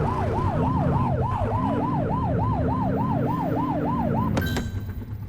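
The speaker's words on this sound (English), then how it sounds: "Get on their tail and flip the siren." A police car siren in The Precinct video game wails loud and close in steady rising-and-falling cycles over a low engine rumble, then cuts to a brief sharp electronic tone near the end.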